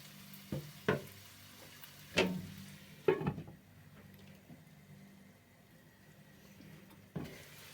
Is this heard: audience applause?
no